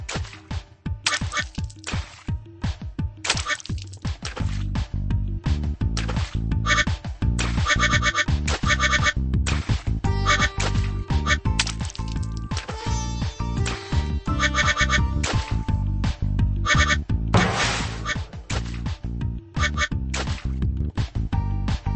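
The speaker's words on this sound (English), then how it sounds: "Sky helps us get all the duckies in the air." Cartoon duck quacks from a Paw Patrol water park video game, popping out in a steady rapid series over bright, busy game music that plays throughout at constant loudness.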